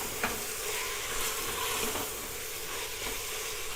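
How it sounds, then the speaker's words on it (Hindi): A spoon stirs onion, ginger and garlic masala frying in a pan, giving a steady close sizzle with light scraping strokes repeating at intervals. "तो एक बार फिर चम्मच चलाते हैं"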